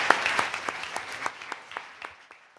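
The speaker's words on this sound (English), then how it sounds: "let's give a round of applause to our esteemed panelists" Sparse applause for panelists after a transit updates conference session: a handful of distinct claps spaced out and slowly thinning, fairly quiet in a roomy space.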